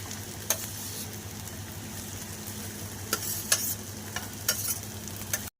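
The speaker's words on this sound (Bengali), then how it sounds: "এবার সেদ্ধ আলু একে একে দিয়ে দিচ্ছি" Boiled potatoes being stirred in a frying pan over a soft background sizzle, with several scattered scrapes and clinks of the spoon.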